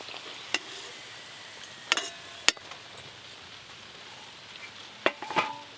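Nanpuri puffed flatbread fries in hot oil, a faint steady sizzle broken by a few sharp pops and clinks of a utensil scattered through the clip.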